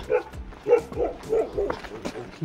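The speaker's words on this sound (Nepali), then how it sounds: "यता कुकुरहरू पनि रहेछ" A dog barks in short repeated yips, several times in quick succession, fairly close, in a village on the Sandakphu trek, with some background noise.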